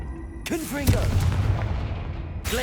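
Confringo fire spell blasts in the Hogwarts Legacy game, a loud booming burst followed by a crackling explosive rumble that decays over about two seconds, with a whooshing swell of effect sounds around it.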